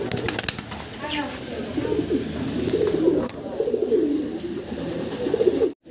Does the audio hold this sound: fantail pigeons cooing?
yes